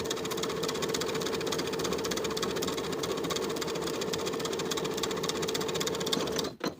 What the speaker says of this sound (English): Then we'll sew the pocket in place from the top to the bottom of the pocket side seam